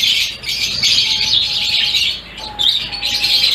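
Lovebirds in a breeding setup chirp continuously and loudly, a dense close flock of high twittering calls with a few brief squawks.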